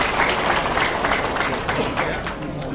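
Applause from a seated audience at an installation ceremony for the new chairman of a regional family association in Batam, a dense, steady wash of clapping filling the room throughout.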